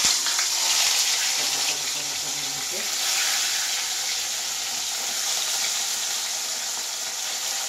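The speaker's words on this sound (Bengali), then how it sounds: "এবার আমি মাছ ভাজবো। এই যে এক একটা করে আমি ছাড়ছি মাছ।" Small fish frying in hot oil give off a dense, steady hiss that swells a little when pieces drop in early on, then settles into an even, close sizzle.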